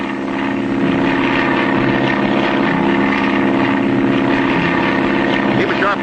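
A propeller airplane flying in the Clutch Cargo cartoon makes a loud, steady engine drone that holds constant throughout with no breaks.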